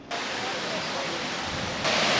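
The smallest waterfall on St. Vincent in the Caribbean, a steady broadband rush of falling water heard close and fairly quiet, swelling slightly louder near the end.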